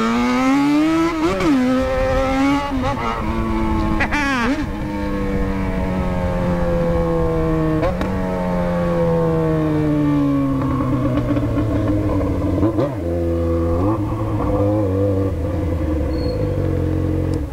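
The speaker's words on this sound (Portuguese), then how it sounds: "O barulho da XJ ficou até oriçado" Yamaha XJ6 motorcycle engine revving hard and loud up close, repeated throttle blips and rising, falling pitch sweeps over a steady roar for the whole stretch.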